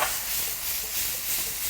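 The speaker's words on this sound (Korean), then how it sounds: "고기를 볶을 때는 이렇게 응어리가 뭉치지 않게 이렇게 계속 저어주세요." Meat sizzles in an oiled pan as it is stir-fried and kept moving, a steady close hiss with soft scraping beneath.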